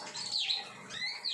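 Black-throated finches chirp in a short run of thin, high calls close by, with a couple of rising and falling notes and no voices.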